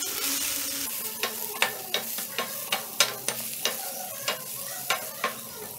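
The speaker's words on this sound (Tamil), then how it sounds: "தக்காளி இந்த அளவுக்கு நல்லா வதங்கன உடனே இதல ஒரு 1/2 கப் தேங்காய் போட்டுக்கலாம்." Tomato and coconut sauté in a pan for chutney, a soft background sizzle broken by a dozen sharp scraping taps of a spatula stirring at an uneven pace, close and quiet.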